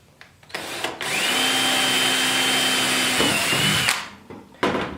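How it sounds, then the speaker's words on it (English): A power drill bores a 3/16-inch hole into a plastic bucket fitting for a chicken feeder, a loud sustained whine of about three seconds with a bite into the plastic, then spinning down, with a brief restart at the end. "we're going to drill a 3/16 hole on our black dot"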